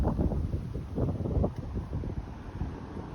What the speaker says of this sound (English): I don't think I'll wear my hat right now, it's just so windy.